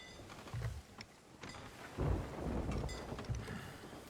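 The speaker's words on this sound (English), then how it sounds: "Hopefully I can just sail straight through this storm and be okay." A thunderstorm at sea while sailing a ship in the video game Sea of Thieves: several deep thunder rumbles roll in at intervals over a soft bed of rain, with no speech.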